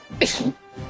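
A single short human sneeze, close and moderately loud, followed by a faint trailing breath.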